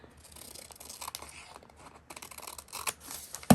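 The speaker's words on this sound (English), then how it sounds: "let's cut the end off of this" Scissors snip and slice through paper scraps in a quick craft session, a run of close crisp cuts with rustling and crinkling, ending in a louder sharp snip.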